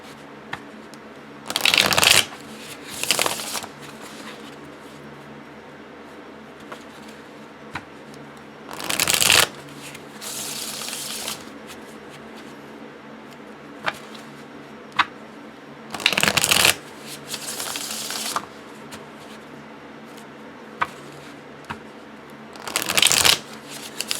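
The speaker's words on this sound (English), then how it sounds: "it feels really nice to shuffle" Tarot cards being shuffled in repeated crisp riffling bursts, each a second or two long, separated by quiet pauses, close up.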